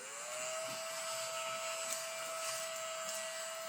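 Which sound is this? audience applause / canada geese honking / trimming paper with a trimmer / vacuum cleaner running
vacuum cleaner running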